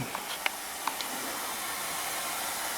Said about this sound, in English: I got vacuum running on it.